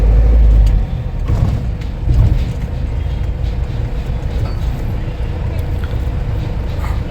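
Steady rumble of a car moving along busy Peddar Road in Mumbai, with engine and tyre noise and passing traffic throughout.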